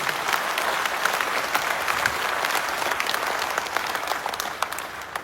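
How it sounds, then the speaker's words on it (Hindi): Sustained applause from a large audience at a Maharaj Shakti Singh ji jayanti gathering, dense steady clapping filling the whole stretch with no speech over it. "तालियां बजी थी तो ऐसे बजी थी।"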